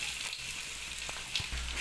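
Browned onion frying in oil with ginger garlic paste for a chicken kasha, a short, close, steady sizzle with a few soft stirring bumps.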